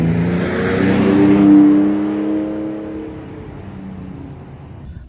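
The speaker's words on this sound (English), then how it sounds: "the truck just starts right up" A 2017 Ford Raptor truck engine rumbles up and revs, a loud, close, steady growl that swells and then eases back toward idle, with no talking.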